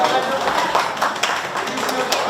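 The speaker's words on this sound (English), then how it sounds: "let's have a huge round of applause for our chief guest" Scattered handclaps from an audience at a fashion runway event as a chief guest is welcomed, a steady patter of claps carrying on with a few louder individual claps standing out, with voices murmuring underneath.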